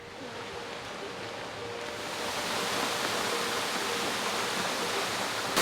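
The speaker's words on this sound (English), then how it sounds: "That's a pretty sick waterfall." A waterfall in Tasmania's lakes area roars as a steady broadband rush, growing slightly louder partway through and continuing without voices.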